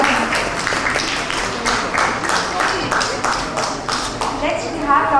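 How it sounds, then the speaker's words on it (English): An audience gives a round of applause at a conference or academic event, with steady, dense clapping running throughout and a voice speaking at moments. "Round of applause for him."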